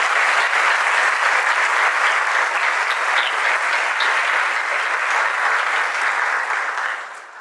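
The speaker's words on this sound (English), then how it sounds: "Let's give one more round of applause for our panelists." A large conference audience claps continuously and loudly for a panel, a dense sustained roar of hands that fades out at the very end.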